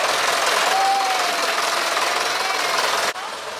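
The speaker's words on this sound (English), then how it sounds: "this is obviously a tractor, but I think the actual tractor is that one" A tractor decorated for a spooky ride at a farm pumpkin patch runs with a steady, loud, rough engine drone throughout, ending with an abrupt cut.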